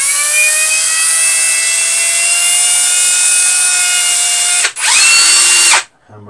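A two-speed hammer drill whines steadily at high speed, stops briefly, then revs up again before cutting off, loud and close with no voices.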